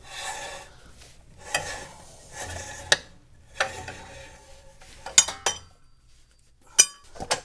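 A lug wrench is worked onto the lug nuts of a second-generation Camaro wheel, making intermittent close metallic clinks and scraping rubs, with several sharp taps spaced across the stretch and quiet gaps between.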